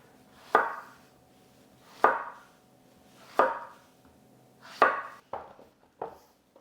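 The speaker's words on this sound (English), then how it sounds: "And then you can just cut the peppers into nice big pieces as well." A knife chops peppers into large pieces on a cutting board for roasting. There are about six crisp, close thuds spaced at fairly even intervals, with quiet in between.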